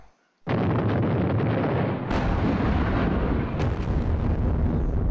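Artillery shot in the Battles of Normandy war game, a sudden loud boom after a brief silence that swells into a sustained rumbling roar with a second burst partway through, no talking.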